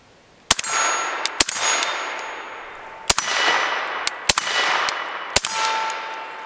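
Suppressed 11.5-inch BCM AR-15 firing at steel targets: about eight sharp, muffled reports, irregularly spaced, each followed by a bright metallic clang ringing out over a second or more.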